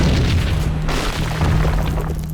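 An explosion in the Max Payne video game: a heavy, sustained boom that rumbles loudly for a couple of seconds with no voices over it.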